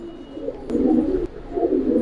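Giribaz and coloured fancy pigeons up for sale coo in low, throaty rolls, two or three clear phrases close by and fairly loud, with a faint tick or two between them and no talk.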